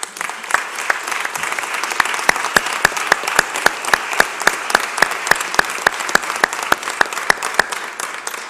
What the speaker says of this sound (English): can we give a big, big round of applause to the CDC community?